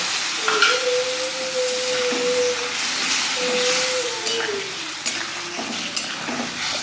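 Sliced flat beans with tomato, onion, fried potato and mustard powder being stirred in a pan, a steady close sizzle with scraping stirs and occasional squeaks, no talk.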